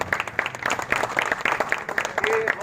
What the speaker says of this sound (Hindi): उनके लिए भी बहुत बड़ी ताली